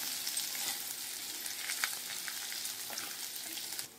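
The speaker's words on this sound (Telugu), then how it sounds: "ఇప్పుడు ఇదే పాన్లో ఆనియన్స్ ఫ్రై చేసుకుందాం" Onions frying in a pan until golden brown, a steady close hiss and crackle of sizzling oil with faint stirring scrapes throughout.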